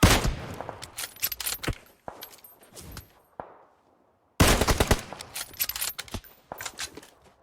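Gunfire in a video game: rapid bursts of shots and machine-gun fire come in clusters, with a quiet gap in the middle before another loud volley, and no talk over it.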